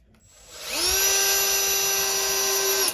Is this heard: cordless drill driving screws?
yes